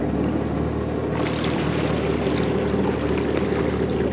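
A Yamaha jet ski runs across open water, its steady engine drone mixed with rushing spray and wind, loud and close throughout with no speech.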